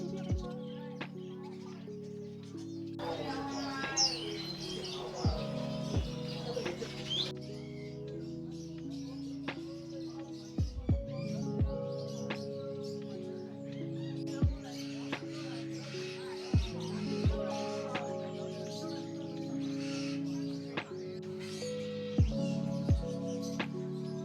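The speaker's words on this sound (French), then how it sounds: "t'as les oiseaux en liberté qui bouffent toutes les graines et t'as ceux qui sont en cage qui sont là" Free-flying and caged birds at a bird market in Mong Kok, Hong Kong, chirp and tweet in scattered bursts over a low steady hum, with sharp clacks and knocks recurring throughout.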